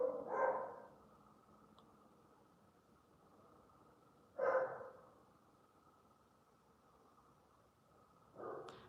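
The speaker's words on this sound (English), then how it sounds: "The dog likes to bark at stray cats and monkeys." A dog barks outdoors, probably at stray cats or monkeys. Three single, fairly distant barks come about four seconds apart, separated by quiet background hiss.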